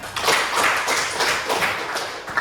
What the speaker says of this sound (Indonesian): Tepuk tangan kepada Denny.